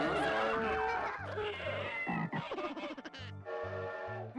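Buzzer sound options cycling in the PS2 quiz game Buzz! Le Méga Quiz, a string of playful animal-like bleats and cartoonish sound effects in quick succession, loud and close with no talk.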